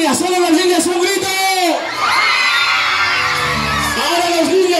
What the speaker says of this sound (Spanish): ¡Solo las niñas un grito!